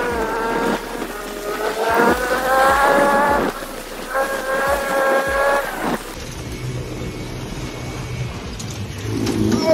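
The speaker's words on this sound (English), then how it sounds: "Oh, a go-kart track, even better." Go-karts race around an outdoor go-kart track, their small engines whining and revving in rising and falling pitches as they pass close by, followed by a rougher, broader engine roar.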